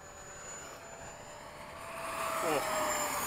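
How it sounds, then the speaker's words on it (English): An E-flite 80mm electric ducted-fan F/A-18D model jet making a low pass at sunset, its steady whine building in loudness and rising in pitch as it sweeps nearer toward the end, with people talking over it. "I'll do a low pass the same way behind you, Keon."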